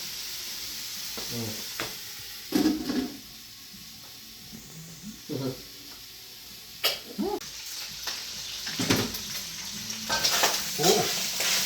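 Bicol Express sizzling in a pan as oil renders out, a constant bright frying hiss punctuated by repeated scraping, clattering stirs of the spoon, close up with little talking.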